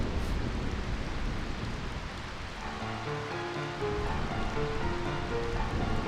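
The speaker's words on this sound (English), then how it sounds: "I find this rain quite pleasant." Steady rainfall in the video game Final Fantasy IX, a constant hiss of drops that continues as soft melodic music rises beneath it partway through.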